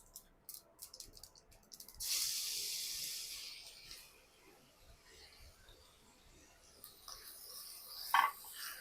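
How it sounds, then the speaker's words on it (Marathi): Marinated prawns dropped into hot oil with popped mustard seeds and asafoetida, a sudden loud sizzle that hisses for about two seconds, then fades to a quieter crackle with a brief flare near the end. "आता आपण त्याच्यामध्ये टाकूया आपली मॅरिनेटेड कोलंबी."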